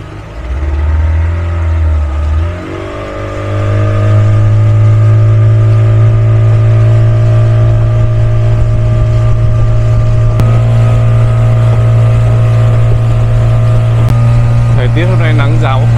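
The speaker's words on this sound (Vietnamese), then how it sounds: "phải đi một chiếc thuyền bằng động cơ mất khoảng 15-20 phút" Motorboat engine droning steadily and loudly on a crossing to an island village in Bali, Indonesia, rising in pitch after a few seconds and holding a constant, close, powerful hum throughout.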